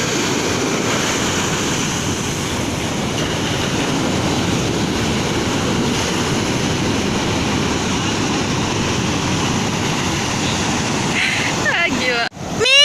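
Surf rolls in steadily at Watu Kodok beach, a broad continuous wash of breaking waves with wind buffeting the microphone, ending in a brief burst of handling noise.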